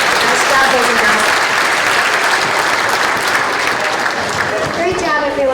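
Loud, continuous audience applause at an outdoor Veterans Day ceremony for a children's ukulele club, with a voice speaking over the clapping near the end.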